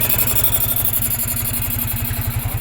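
A motorcycle engine with a large radiator idles steadily up close, a fast even putter with light mechanical clatter and no talk.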